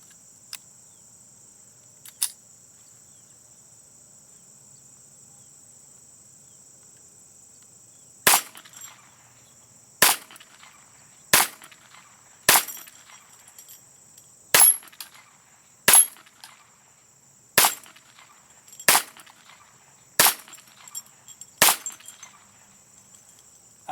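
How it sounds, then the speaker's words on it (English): Nine sharp gunshots from a Ruger Mark II pistol fitted with a Volquartsen LLV barrel, fired at an uneven pace of roughly one every second or two, loud and close, with a steady high insect-like whine behind them. "Let me shoot it a few more times."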